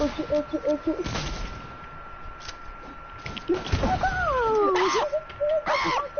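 Gunfire in a shooting video game's zombie mode: sharp bursts of shots crack out every second or two among bright electronic game tones, fairly loud and close, with a few heavier blasts.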